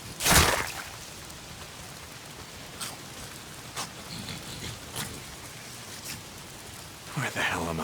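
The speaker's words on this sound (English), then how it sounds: "If it's not the freaks, it's the goddamn rain." Steady rain in the zombie survival game Days Gone, a constant hiss of downpour on surfaces with a few sharp impact spikes and brief speech-like bursts over it.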